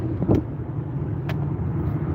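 A car passes nearby with a steady low engine rumble and road noise throughout, plus a couple of brief clicks, fairly close and with no talking.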